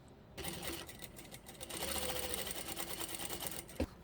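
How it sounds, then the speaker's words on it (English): Sewing machine stitching a fabric scrunchie closed: a steady, close mechanical whirr with a fast needle rhythm that rises and holds, ending with a small clunk, with no speech. "Take it back to your machine, fold the edges over, and they'll naturally want to fold over anyway. Pinch it together, and then we can stitch that closed."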